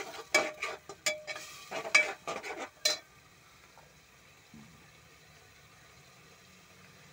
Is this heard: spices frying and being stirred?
yes